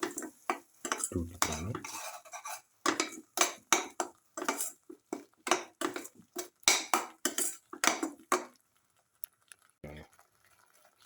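A spoon scrapes and stirs a shallot, coconut and tomato mixture in a pan in repeated rhythmic strokes with light sizzling underneath. A voice speaks briefly near the end.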